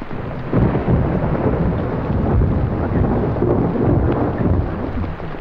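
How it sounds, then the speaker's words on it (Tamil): Heavy rain pours steadily with deep thunder rumbling throughout, loud and continuous with no talk over it. "வரும்போது ஒரே மழைங்க"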